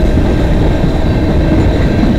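CN freight train M397 passing on the Dundas Subdivision in London, Ontario: a loud, steady, continuous rail rumble and rattle of wagons rolling by, close and unbroken throughout.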